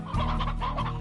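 Close, loud clucking from hens in the farming game Slime Rancher, a brief burst of several overlapping calls that holds for about a second.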